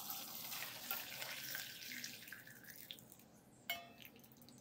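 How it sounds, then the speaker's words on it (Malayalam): Homemade herbal tea for a cold and sore throat is poured through a strainer into a vessel, giving a faint, steady trickle of liquid that tapers off, then one sharp drip or clink near the end. "ഇനി ഇതിലോട്ട് ഒഴിച്ചു കൊടുക്കാം."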